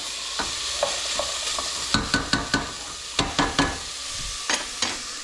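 Veal stew ingredients sizzle in a hot pot under a steady frying hiss, with clusters of sharp scraping knocks as a utensil stirs and strikes the pot in short bursts.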